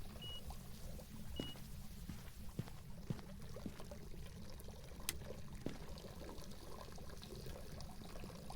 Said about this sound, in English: I will go turn off the water before it overflows everywhere